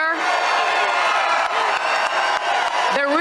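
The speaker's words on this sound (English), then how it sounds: "they're screaming your name" A loud crowd cheers and yells a name for DJT, a dense roar of overlapping voices with whoops that holds steady and swells near the end.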